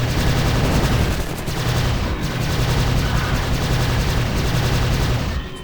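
Gunfire in the 2006 shooter Prey, loud sustained bursts of rapid shots with booming low thuds running almost unbroken, with a voice briefly heard beneath.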